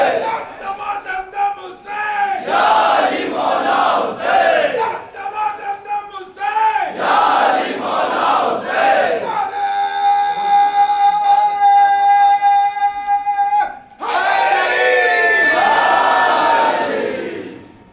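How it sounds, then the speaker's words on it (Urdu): At a Jashn-e-Qayam religious gathering in Jabalpur, a large crowd loudly chants salawat in unison in repeated surging bursts, with a sustained tonal passage in the middle. "ایک مرتبہ اور صلوات پڑھ دیں، بس صلوات پڑھ دیں"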